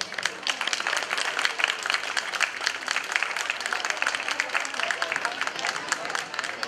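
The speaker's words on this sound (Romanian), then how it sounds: "Îi putem întâmpina cu aplauze." Audience applause at an interethnic week stage event welcoming an Aromanian children's dance ensemble, steady dense clapping at moderate level throughout, with faint voices mixed in.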